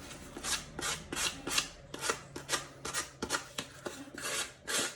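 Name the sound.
sanding foam core shoe covered with paper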